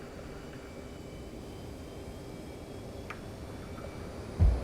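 An aircraft taking off in the DCS World flight simulator: a steady, even engine roar with a faint tonal hum that holds throughout, ending in a brief low thump.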